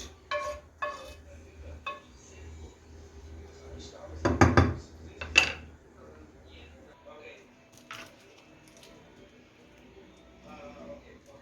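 A cast iron pan clatters as it is set down into something to cool, giving several loud metallic clanks in the middle of the clip, with lighter kitchen knocks before and after and a voice talking.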